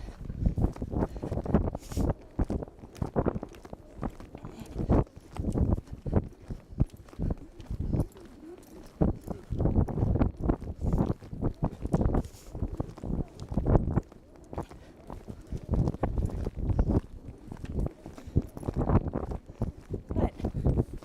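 Hooves of a horse being schooled slow at the lope in a training session strike the ground in a steady, rhythmic beat, close and fairly loud, while a trainer talks over them and counts out the cadence.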